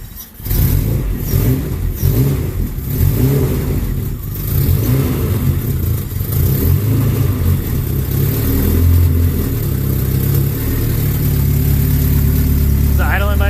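A Honda H22 engine running on its first start after a build. It roars loud and close with uneven revving, its pitch rising and dipping as the throttle is held open, while voices are heard now and then over it.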